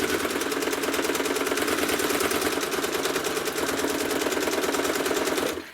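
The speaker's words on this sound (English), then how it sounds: "stitch the edge of my quilt down" Sewing machine running steadily while stitching down the edge of a quilt, a fast continuous mechanical whir with rapid needle beats for nearly six seconds, then stopping abruptly.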